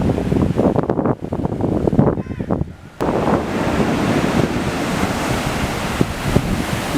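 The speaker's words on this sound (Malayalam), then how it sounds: "നല്ല ശക്തമായ കാറ്റാണ് അതുപോലെ തന്നെ നല്ല ശക്തമായ അതായത് ഉയർന്ന തിരകളാണ്" High sea waves crash at Pozhiyoor beach under strong gusting wind, loud surf roar with heavy wind buffeting the microphone, a short lull before the surge builds again.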